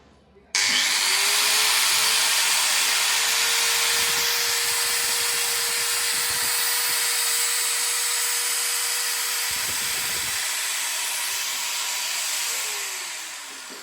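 A BUILDSKILL 900W angle grinder with a copper motor starts abruptly and runs at a steady high whine for about twelve seconds, then winds down near the end, loud and close with no talking.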